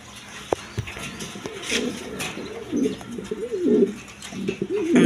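A coloured Raj Golla pigeon gives several soft, throaty rolling coos in close succession, near and clear, with faint background noises and no talking.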